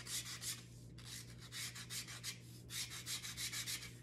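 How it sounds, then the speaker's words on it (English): Hand sanding with 120 grit sandpaper eases a sharp wood edge, a series of quick back-and-forth rasping strokes in close, steady bursts over a low constant hum. "So I'm going to take 120 grit sandpaper and I'm going to start by just removing or easing that sharp edge right there."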